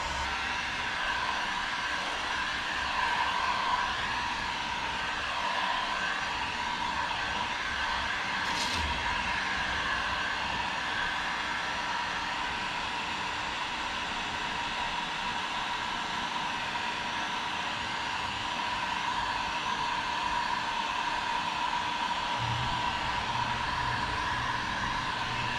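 A heat gun or hair dryer blows steadily on drywall patch compound, giving an even, continuous airy whoosh at moderate distance with no breaks or talking.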